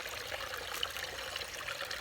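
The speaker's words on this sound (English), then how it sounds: "The waterfall's going, the pond filter's going" A garden waterfall and pond filter run outdoors, giving a steady, even hiss of splashing and trickling water with no pauses, moderately loud and alone.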